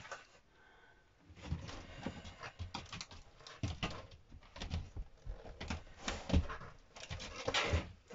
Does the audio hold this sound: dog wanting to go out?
yes